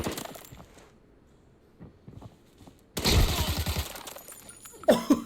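Sharp gunfire bursts and impacts in the Arena Breakout shooter game, shots striking the player's helmet; loud cracking volleys arrive midway after quieter footsteps and movement, with a further burst near the end.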